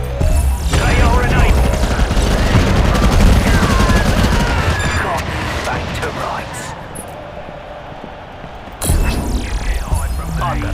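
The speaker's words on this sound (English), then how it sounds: "Friendly missile strike deployed." Missile strike explosions and rapid gunfire from the video game MCVS in an Assault Arena match, a loud dense barrage of blasts and shots that fades toward the end, then surges again, with talk heard alongside.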